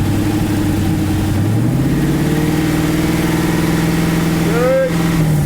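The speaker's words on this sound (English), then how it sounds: "rev it up a little bit" A car with its factory muffler idles close by, then revs up, the engine note climbing and holding, with a brief blip near the end; the engine runs continuously throughout.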